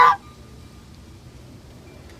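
A single short goose honk right at the start, then near silence with faint background hiss.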